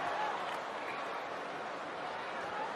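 Rugby sevens stadium crowd at a women's match in Hong Kong roaring steadily in a broad, sustained wash of cheering, with no single voice standing out.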